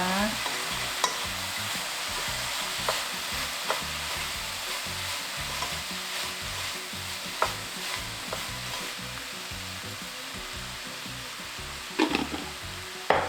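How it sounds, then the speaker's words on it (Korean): Small dried anchovies are stir-fried in a pan, a steady sizzle with constant rhythmic scraping and stirring, a few sharper clatters near the end, and nobody speaks. "볶아줍니다."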